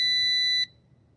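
A G11PRO drone beeps during startup with a single bright electronic tone held for about half a second, then cut off, leaving faint background hum.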